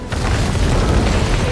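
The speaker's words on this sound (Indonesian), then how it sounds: "Setelah membunuh Gomez, Miguel memutuskan untuk menghapus jejaknya dengan cara meledakkan bom yang sudah ia persiapkan dari awal ia datang" A bomb blows up in a film: a sudden loud boom that swells into a sustained roaring, rumbling blast filling the whole stretch, with no voices.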